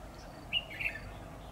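A red-whiskered bulbul gives a brief song of two or three quick, bright whistled notes, fairly faint against a steady background hiss.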